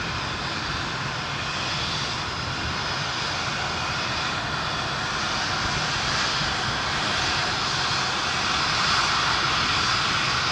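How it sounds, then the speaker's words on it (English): A large airplane's engines roar at Seattle Boeing Field, a loud continuous broadband rush with a whining edge that holds steady and swells slightly toward the end, no voices. "there is a lot of airplane, a lot of engine for that airplane"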